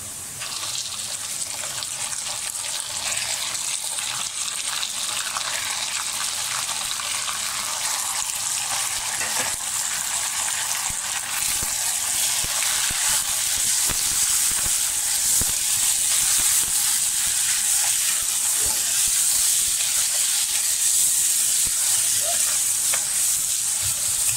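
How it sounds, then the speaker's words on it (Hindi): Goat mutton frying with garlic in a karahi, a steady loud sizzle and crackle of hot oil that holds for the whole stretch, with occasional stirring scrapes and no talk. "जब लहसुन की खुशबू आने लगे तो अब हम इसमें बकरी का गोश्त डालेंगे, तकरीबन 1 किलो, 3 पाव से लेके 1 किलो तक।"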